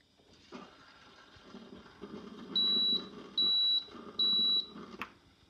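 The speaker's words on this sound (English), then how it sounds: "until it beeps three times" A Breville Barista Express espresso machine gives three evenly spaced high beeps, each about half a second long, clear and close, after faint handling sounds and with a soft mechanical hum underneath.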